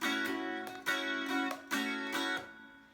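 An acoustic guitar is strummed downward in a repeating pattern, with full, ringing chords and a few sharper muted hits in a steady rhythm, played alone without talking.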